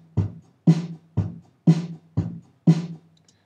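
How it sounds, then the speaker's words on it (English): A sparse drum pattern alternates kick and snare hits in a steady rhythm, six strikes with short gaps, with no other instruments. "we took apart a drum kit into individual instruments."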